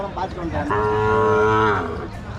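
At the Matrapalli cattle market, a calf lets out one long, nasal moo that swells and holds before fading, close by, over a low murmur of the market.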